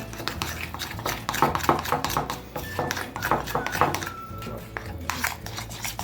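Green food coloring being mixed into cake frosting in a bowl, close scraping and clinking of a utensil against the dish in uneven strokes, with a few soft metallic taps and a faint voice in the background.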